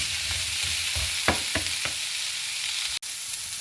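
Chicken and chopped beans fry together in a pan for a Spanish-style dish, a constant close hiss with a few stirring scrapes and one brief cut-out near the end.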